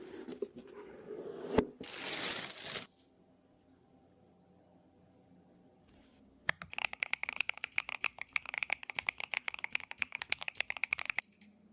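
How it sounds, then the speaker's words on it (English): AI-generated keyboard unboxing: a loud burst of packaging rustle and tearing, then a near-silent pause, then a long run of quick, crisp key clicks up close, with no talking. "unboxing video of a keyboard."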